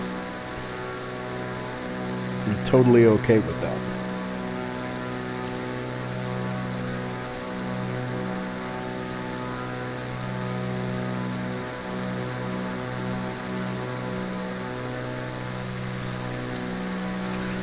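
A propeller airplane engine in Microsoft Flight Simulator drones steadily throughout, a low layered hum with a brief louder burst early on and a voice speaking once over it.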